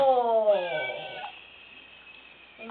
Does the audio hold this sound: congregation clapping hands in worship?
no